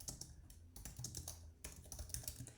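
Keys clatter in quick, uneven bursts on a computer keyboard while entering budget categories into a spreadsheet, with a few sharper single presses like the enter key, close and clear with no talking.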